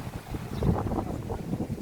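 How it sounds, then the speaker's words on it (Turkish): Gusty wind buffeting the microphone outdoors on a windy day by the lakeside at İznik, a steady low rumble with louder surges throughout and no talk. "Rüzgarlı bir gün."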